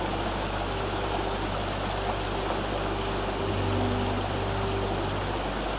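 Waterfall and stream water at Devil's Kitchen in Snowdonia make a steady, dense rushing roar that fills the whole stretch without pause, with no voices over it.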